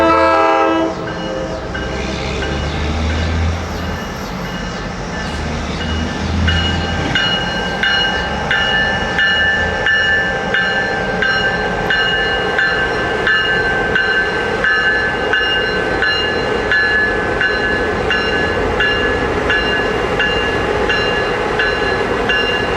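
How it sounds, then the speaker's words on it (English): An executive passenger train led by a pair of F9 diesel units with two B units between them passes loudly, horn blaring at the start, then steady diesel engine drone and rolling wheel clatter throughout. "The executive train has an impressive pair of F9 diesel units with a pair of B units in between."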